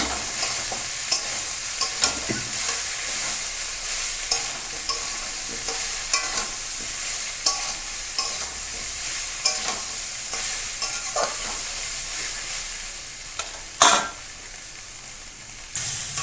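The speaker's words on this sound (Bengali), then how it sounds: "লবণ দিয়ে দেব হলুদ দিয়ে দেব ভালো করে কষিয়ে নেব" Soybean curry with salt and turmeric is stir-fried in a pan, a steady close sizzle with repeated spatula scrapes and stirs throughout, one sharper clatter near the end, no talking.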